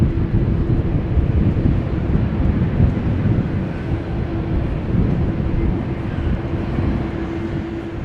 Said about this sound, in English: I think there's an A319 also coming this way. Croatia Airlines will be going to Zagreb.